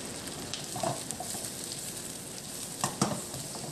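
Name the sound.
onions frying in butter and oil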